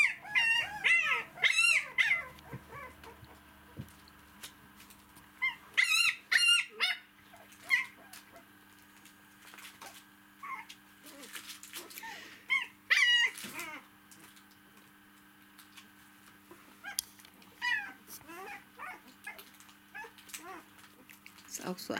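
A dog whimpers and howls in repeated high, wavering bursts, some loud and near, with quieter gaps between them and a steady low hum underneath.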